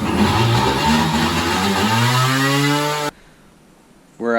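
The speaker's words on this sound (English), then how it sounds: "I gave it just a little bit of throttle, and all of a sudden it just went straight full throttle." A Superjet jet ski engine, freshly installed, revs hard toward full throttle with a loud, rising mid-pitched roar that climbs steadily for about three seconds, cuts off abruptly, then briefly restarts near the end.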